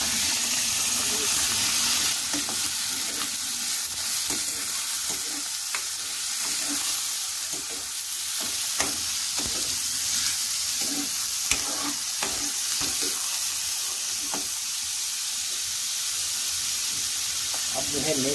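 Liver (kaleji) fries in a pan with a steady, loud hissing sizzle and occasional stirring scrapes throughout, with a voice speaking briefly under it.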